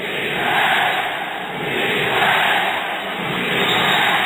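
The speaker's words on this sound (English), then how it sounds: "Crowd have woken up." A large basketball arena crowd roars and cheers steadily and loudly throughout, a dense sustained wall of voices at an international game between the Philippines and Iran.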